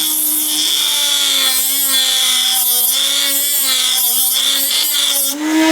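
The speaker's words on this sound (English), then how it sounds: "you can grind textured patterns in a perfectly straight line" A flex shaft grinder textures a metal surface while guided along a linear rail, giving a steady, loud, high-pitched whine with a sustained tone that wavers slightly in pitch throughout.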